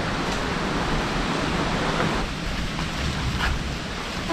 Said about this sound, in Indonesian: ternyata suara anginnya kencang sekali ya